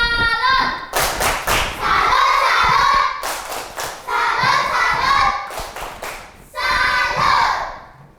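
A primary-school classroom of children does a patterned group clap, loud hand strikes in rhythmic bursts alternating with loud chanted voices, repeated three times.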